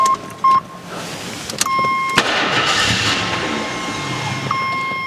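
An abandoned AMC Eagle's engine cranks with a short beep beforehand, then catches and runs at a steady, loud idle through the rest, with a high whine over the rumble.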